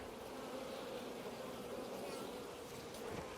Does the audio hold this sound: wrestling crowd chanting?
no